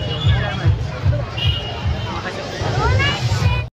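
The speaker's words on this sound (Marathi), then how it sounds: "तर मित्रांनो इथं मिरजच्या तिकटीला आलो आहे आणि इथं गर्दी पाहू शकता केवढी आहे" A large festival crowd packs Miraj junction during the Dahi Handi celebration. The babble of many voices is steady and close, with rhythmic low thumps that sound like drumming, and someone speaks over the crowd.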